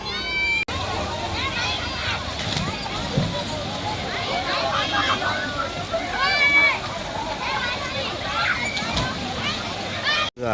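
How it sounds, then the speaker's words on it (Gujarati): Water gurgles and splashes as it flows out of a temple pond at Sandhida Mahadev, a continuous close sloshing rush with people talking over it. "ખળખળ પાણી બધું જો અહીંથી લઈને"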